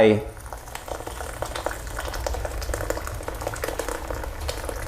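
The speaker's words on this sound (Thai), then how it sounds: "เทใส่ลงไปในถ้วย แล้วก็เทน้ำร้อนลงไป" Hot water is poured over sticky rice in a bowl, making a steady, bubbling liquid rush that starts strongly and continues at moderate loudness, with no talking.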